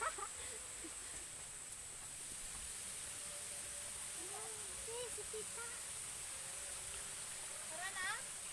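A river on a farm flows with a steady, soft rushing hiss in the distance. It stays faint throughout, with a few light chirps rising above it near the end.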